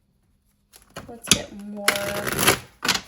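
Tarot cards shuffled on a glass table: bright, clattery bursts of card slaps and rattling against the glass, building into a dense stretch of shuffling, with a person talking over it.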